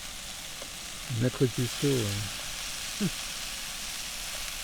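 Meat sizzles in a pan over a campfire at a riverside bivouac, giving a steady soft hiss throughout. Someone speaks briefly over the frying.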